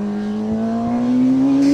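Kawasaki ZX-10R sportbike on a race track, engine note climbing steadily as it accelerates through the gears, loud and close with a continuous rising whine and no talk.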